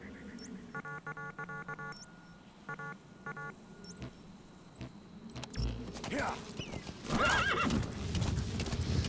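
A horse ridden in the video game Metal Gear Solid V clip-clops in steady hoofbeats, with a loud neigh and whinny near the end, mixed with beeping game interface tones and mechanical clicks.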